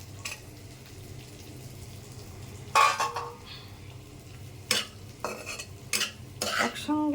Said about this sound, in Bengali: একসঙ্গে আলু আর বরবটিটা ভেজে নিতে হবে।